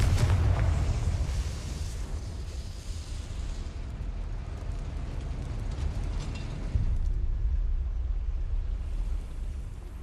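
A blasting spell detonates in the Hogwarts Legacy game, with a loud opening boom that settles into a long rumbling, crackling roar and then a second lift in the rumble partway through.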